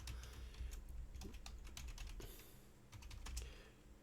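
Rapid keystrokes clatter on a computer keyboard in irregular bursts, close and fairly quiet, with brief pauses between runs of clicks and no voices.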